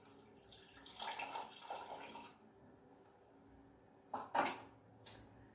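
Water pours into a pot of butter chicken sauce over canned whole tomatoes in two short, splashy bursts, followed by a few brief clunks of pot or lid handling in a quiet kitchen.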